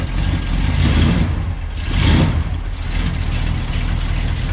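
A 1969 Dodge Charger engine idles while warming up, a steady, close, deep rumble that swells briefly twice, with no voices.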